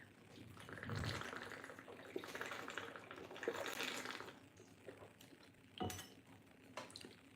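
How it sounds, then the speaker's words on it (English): Glass and dishes clink and knock while a drink of water is fetched, with a louder clatter near the start, a sharp knock around six seconds, and faint rustling in between. "I need a drink of water"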